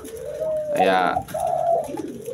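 A spotted dove coos close by in a short soft rolling call, with a voice speaking faintly around it.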